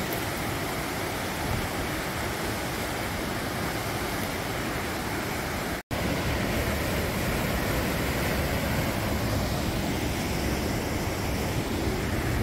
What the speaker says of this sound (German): Hier sucht sich der Bach seinen Lauf.